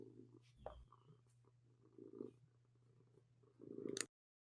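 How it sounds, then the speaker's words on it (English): A pet cat named Callie purring close to the microphone, a low steady rumble running under the clip with a few faint background noises and a louder burst at the end. "Purring cat."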